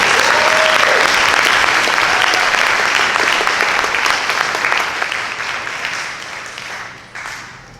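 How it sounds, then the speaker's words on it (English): An audience at a high school band concert gives loud, sustained applause, a dense wash of many hands clapping that gradually fades toward the end. "big round of applause for these guys"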